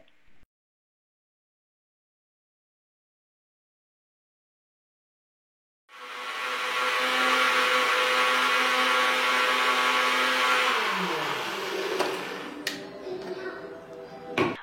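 A mixer grinder runs loud and steady while grinding chutney of small onions, dried red chillies and tomato, starting after a long silence and winding down with a falling whine near the end.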